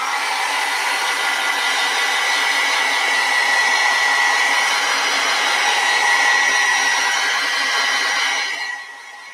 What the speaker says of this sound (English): We can dry it with a heat gun.